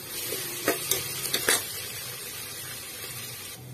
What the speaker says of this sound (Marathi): हे अद्रक लसूण कोथंबीरचं वाटण मी टाकून घेणार आहे यालाही छान परतून घेणार आहे